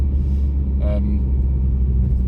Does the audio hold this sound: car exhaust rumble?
yes